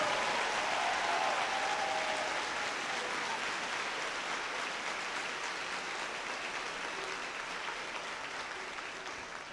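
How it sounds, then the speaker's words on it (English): Crowd applause fills a gym at a girls' high school basketball substate game, a dense, steady wash of clapping that continues throughout and fades slightly toward the end. "please join me in giving a big round of applause to both teams and their coaching staff"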